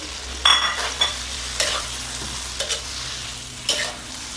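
Eggplant is stir-fried in a wok of chili oil, with a steady sizzle and several sharp scraping strokes of a spatula at irregular intervals, close and without talk.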